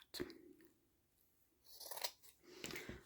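Scissors snip fabric along a fold to open the neck of a baby bib, a few quiet close crisp cuts spaced apart with soft rustling between.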